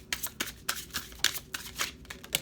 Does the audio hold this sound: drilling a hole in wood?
no